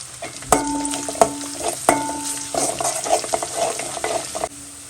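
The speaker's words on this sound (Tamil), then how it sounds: "சிம்மில் வச்சு நல்லா பூண்டு அந்த அளவுக்கு வறுத்துக்குங்க" Garlic fries in oil over low heat, a close, continuous crackling sizzle punctuated by repeated sharp clinks of a spoon against the pan.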